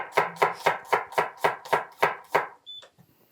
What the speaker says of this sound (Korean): 마늘도 5개만 하자. 그리고 이걸 편으로 썰을게요.